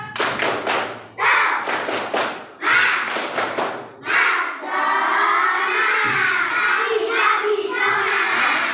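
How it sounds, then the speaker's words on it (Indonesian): Children in a classroom doing the tepuk semangat spirit clap, loud group clapping in a quick rhythmic pattern broken by short pauses, then building into sustained cheering and chanting voices. "Ayo tepuk semangat"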